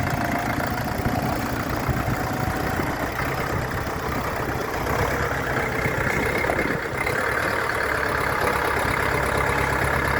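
A Jinma 404 four-cylinder diesel tractor engine runs at a steady idle nearby, a constant dense drone that holds an even level throughout.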